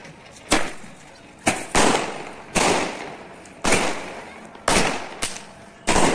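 Firecrackers burst one after another, about eight loud bangs at irregular intervals, each trailing off with a short echo outdoors.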